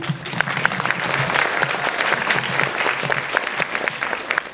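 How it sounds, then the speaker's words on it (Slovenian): Steady applause from an audience at a family singing and dancing performance, dense clapping that holds at an even, fairly loud level throughout with no talking. "En aplavz za njih dve."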